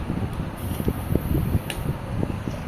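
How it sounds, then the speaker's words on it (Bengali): A running electric fan in a room pushes air across the microphone, giving a gusty, uneven low rumble with soft buffeting bursts close by. "বাতাস আছে ও ফ্যানটা অফ করতে হবে"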